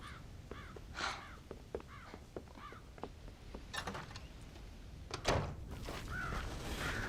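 Crows caw around a farm silo in the Red Dead Redemption video game, several harsh calls scattered over several seconds, some near and some farther off, mixed with a few dull thumps and a low rumbling background.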